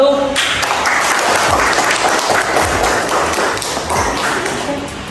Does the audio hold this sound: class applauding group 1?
yes